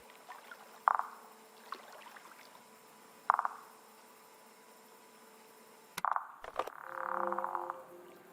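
Clear frog croaks in SEASON: A Letter to the Future, a few sharp single calls several seconds apart followed by a longer, rolling croak, with a quiet game ambience and no talking.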